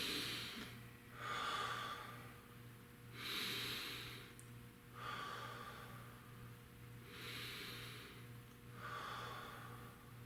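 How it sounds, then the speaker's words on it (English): Slow deep breaths come in a quiet, even rhythm, about four long inhales and exhales over ten seconds, soft and close over a low steady hum. "we're going to take 3 deep breaths"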